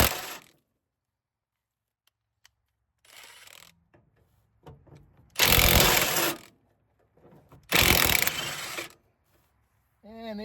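A ratchet with a thin wall socket works on a bolt holding the bed of a Datsun/Nissan 720 pickup truck. Two loud bursts of rapid metallic clicking come up close, with quieter clicks and handling noises between them.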